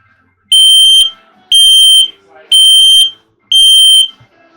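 Inside a 2022 Palomino Real-Lite HS-1806 truck camper, a smoke alarm under test gives four loud, piercing electronic beeps, each about half a second long and evenly spaced, with near-silence between them.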